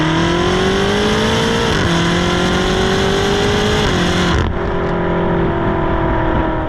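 A 2023 BMW X5M Competition's engine and valved exhaust roar loudly and steadily close by, rising in pitch with a couple of brief dips and shifts as it revs, no voices.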